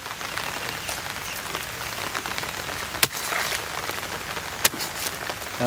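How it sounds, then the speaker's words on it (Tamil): Heavy rain falls steadily outdoors, a dense crackling patter of drops on surfaces with a couple of sharp louder drip hits standing out, close and continuous without talk. "சரியான மழை வேற வந்துருச்சு நனைஞ்சிட்டே தான் வெட்டுறான்"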